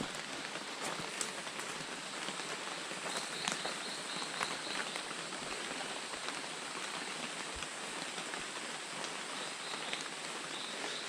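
Steady rain falls across a rural property at the start of the rainy season, a dense even hiss with scattered drop taps and faint thuds, constant for the whole stretch with no talk.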